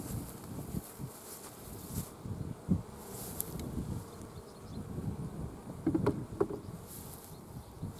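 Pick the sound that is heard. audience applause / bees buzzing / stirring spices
bees buzzing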